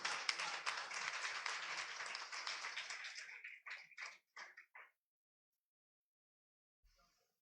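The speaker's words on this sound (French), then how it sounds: "Sur votre applaudissement l'assemblée." A church congregation at a wedding ceremony applauds with brisk clapping that thins out into a few scattered claps, then fades to near silence.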